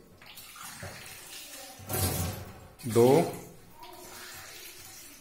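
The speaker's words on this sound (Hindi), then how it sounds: "और अब हम इसको पानी में उबालेंगे, पानी डालेंगे, और 4 कप पानी हम इसके लिए लेंगे।" Water is poured by the cup into a pot for boiling giloy, making two short splashing pours a second apart, with a voice counting along between them.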